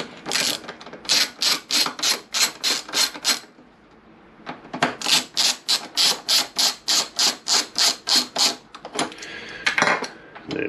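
Bolts on the top-box frame rails of a Honda VFR800 VTEC being loosened with a ratchet, two long runs of fast, even clicking separated by a short pause, close and loud.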